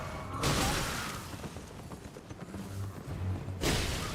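Horses gallop in the video game Elden Ring, heard as muffled hoof clatter with two louder bursts at the start and end, a rough rumbling middle, and no speech.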